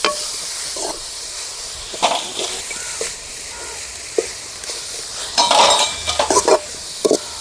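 Grated carrot and coconut sauté in ghee in a pan, with a soft background hiss broken by intermittent scraping stirs and clinks of the utensil, growing busier toward the end.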